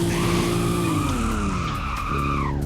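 A Nissan drifting in the Roblox game Driving Empire lets out a loud, sustained tire squeal over a roaring engine whose pitch slides downward, all in one close, continuous skid of under three seconds.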